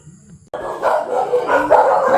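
A dog in rural Malapoc Sur, Maasin City, Southern Leyte, Philippines, barks and yips in a burst that starts abruptly after a quiet moment, close and fairly loud, with no talking.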